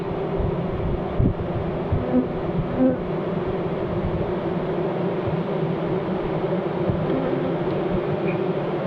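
Honeybees buzzing inside an opened Ukrainian hive at an abandoned apiary, a dense steady drone close by with a few individual bees passing near.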